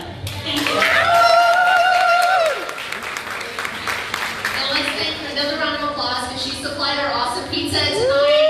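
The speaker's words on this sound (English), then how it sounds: "let's take another round of applause" An audience at a women's meeting gives a round of applause. The clapping is steady and fills the room while a speaker's voice carries over it throughout.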